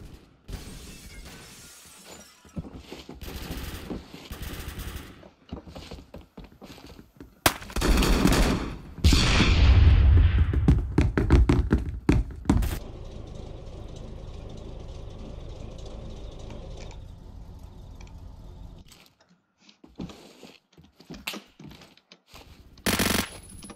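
Gunfire in the video game Phantom Forces, with a dense burst of rapid shots and a shattering crash in the middle, surrounded by sparser, quieter shots and game noise.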